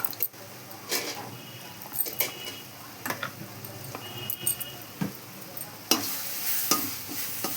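A spiced citron pickle mixture with turmeric is sautéed in oil, soft sizzling beneath intermittent scrapes and taps of a spoon against the pan, close and fairly quiet, with a brief louder burst near the end.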